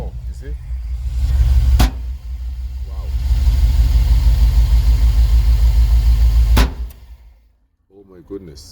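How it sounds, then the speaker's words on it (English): A 2000 Chevrolet Express van with a 5.7 L engine cranks briefly, then catches and idles with a loud, steady low rumble before shutting off, followed by a short spoken exclamation. "So let's start this car and hopefully everything is good."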